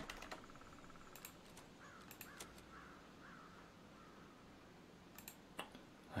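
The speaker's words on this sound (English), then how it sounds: "like these crow sounds and everything" Crows caw in the video game Legends of Aria, a run of several soft, evenly spaced calls near the middle, with scattered keyboard and mouse clicks around them. The whole thing is faint, and there is no talk.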